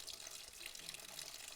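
Coolant pours out of a Yamaha Tenere 700 cooling system once the cap is loosened, a steady faint splashing stream with no talking.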